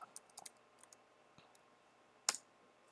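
A few faint keystrokes tap on a computer keyboard as a command is typed, scattered light clicks with one sharper, louder key press near the end, otherwise quiet.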